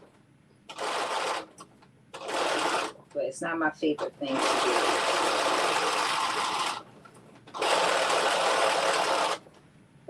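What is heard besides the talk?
sewing machine stitching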